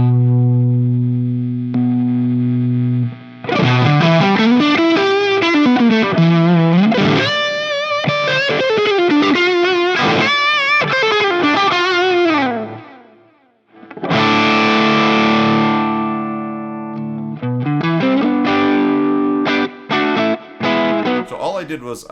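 An electric guitar plays through a fuzz tone from a Fractal FM3 preset built on a 1959SLP Treble Plexi Marshall model, with thick sustained notes, bends and chords, one brief drop to near silence, then strummed chords.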